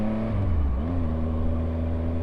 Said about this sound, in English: Just give it a few revs to pull away.